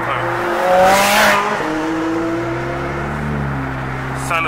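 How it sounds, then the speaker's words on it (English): A McLaren sports car drives close by on a road and accelerates, its engine note climbing in pitch and surging in a few rising steps over a few seconds. "it's a McLaren right behind me"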